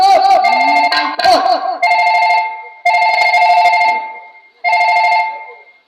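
An electronic telephone ringer sounds in repeated loud bursts with short gaps between them, at the start layered over a voice and other tones.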